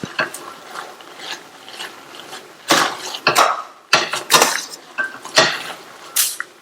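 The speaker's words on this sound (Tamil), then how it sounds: "இத இப்ப இந்த மாதிரி லைட்டா மசிச்சு விட்டுருங்க." Cooked rice and lentils for pongal being lightly mashed in a pot, a series of scraping, clattering strokes of a utensil against the metal, irregular and close, with short pauses between pushes.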